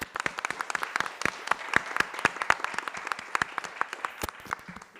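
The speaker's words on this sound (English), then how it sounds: "So first of all, a big applause to everyone." An audience at the JuliaCon 2025 programming conference bursts into applause, a dense, even clatter of many hands clapping that fills the room and carries on throughout.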